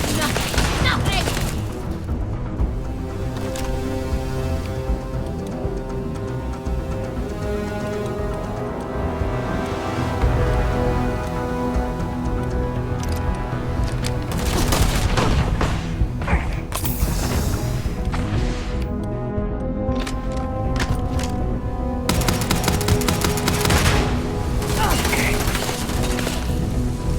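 Dense, sustained gunfire and booming explosions rage through a sci-fi shooter battle, with shouted voices cutting in over the continuous loud barrage.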